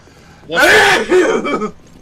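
A single loud, close sneeze bursts out for about a second, followed by a brief breathy aftershock in a quiet room.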